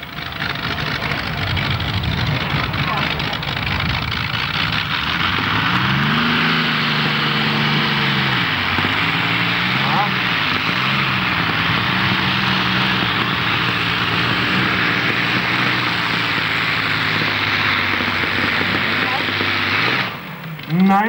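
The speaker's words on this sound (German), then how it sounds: "Ein Continental V12 Panzermotor mit 3 Blowern." A pulling tractor powered by a Continental V12 tank engine with three blowers roars loud and steady at an outdoor tractor pulling event, its drone rising and falling in pitch under an announcer's voice.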